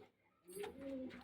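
A pigeon coos softly in a loose pair of low, rounded calls, fairly close and alone against quiet room tone.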